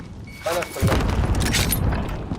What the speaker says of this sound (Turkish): Sen bir bomba atıyorsun.